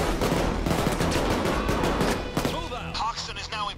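AK rifle gunfire in the video game PAYDAY 2, dense rapid bursts of shots blending into a continuous clatter with heavy booms, easing off near the end into scattered shots.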